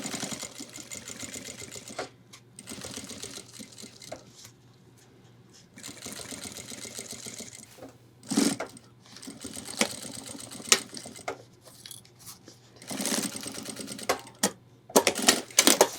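Sewing machine slowly stitching ultralight backpack fabric for a 30-litre hiking pack, bursts of rapid needle chatter broken by pauses, close and moderately loud with no talking.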